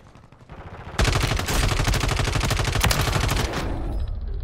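Sustained automatic gunfire in the video game Call of Duty, loud rapid bursts starting abruptly and continuing for several seconds before easing off, with no talk over it.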